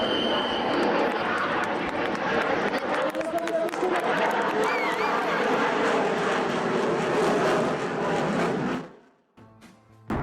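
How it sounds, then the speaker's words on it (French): A Dassault Rafale fighter jet at an air show roars past loud and steady for about nine seconds with crowd noise beneath, then cuts away abruptly to quieter ambience. "Alors Florane, le Rafale en direct, c'est magnifique?"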